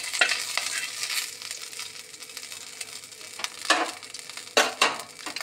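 Oil sizzling in a pan over a low gas flame, a steady broadband crackle with a few louder bursts of spatter and stirring scrapes, close and alone with no voices.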